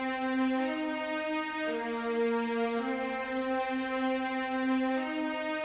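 Lead violin from the Spitfire Epic Strings plugin holding long sustained notes that shift pitch every second or so, played alone, smooth and quiet.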